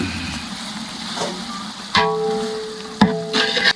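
Chicken biryani masala being stirred in a pan, a soft scraping and gentle sizzle with a few sharper knocks of the spoon against the pan, close and fairly quiet.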